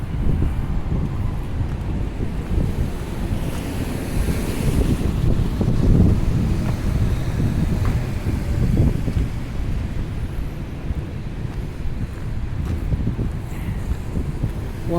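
Wind blows on a steep hill in Halifax, buffeting the microphone with a constant low rumbling roar and gusty surges, loud and close, with no voices.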